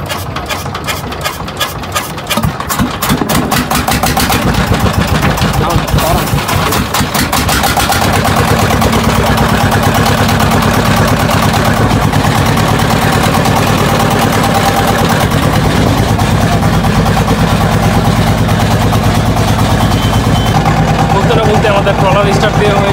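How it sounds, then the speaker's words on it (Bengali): A trawler boat engine on the Meghna River starts with rapid knocking, then settles into a loud, steady, rattling drone that stays close and dominant to the end. "আমাদের ট্রলার স্টার্ট দেওয়া হয়েছে, প্রচণ্ড শব্দ শুনতে পাচ্ছি"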